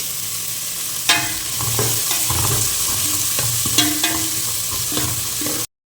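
Sliced onions, three of them, sizzling in oil for a Sankara fish curry, a steady broadband fry with a spoon stirring and scraping the pan at intervals, close and fairly loud, no voices.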